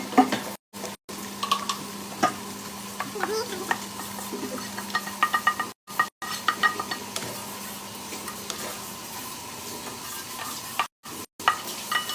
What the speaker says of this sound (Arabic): هاي الملوخية بلشت تغلي وتطلع ريحتها